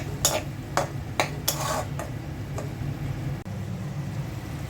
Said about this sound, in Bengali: মাথাটা কিছুক্ষণ কষিয়ে তারপর শাকটা দিয়ে দিব।